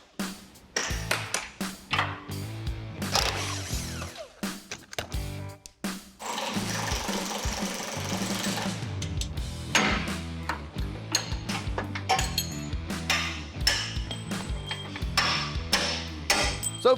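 Impact wrench hammering out seized axle and leaf spring suspension bolts on a square-body truck, in repeated bursts of rattling with metallic pings and clanks between them, close and loud.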